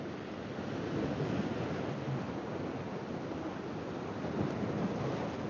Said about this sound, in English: We've got low tide, which is making these waves look absolutely crazy.